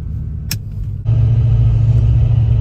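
Ford Fox Body Mustang engine while driving, a low steady rumble that swells after a short click as the car pulls along at low speed, near and loud.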